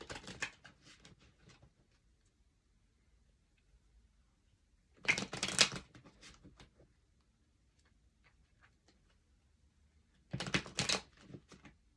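An oracle deck being handled, with three separate bursts of brisk card shuffling and riffling, close by and crisp, separated by quiet gaps and fainter card taps.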